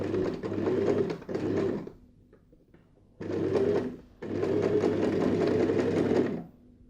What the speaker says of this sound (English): So I just sew like so, and then I go and sew the bottom of my bias binding